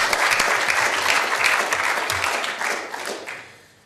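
Council members applaud the Records Office staff at a county council meeting, a dense, steady round of clapping from a room full of people that fades out toward the end.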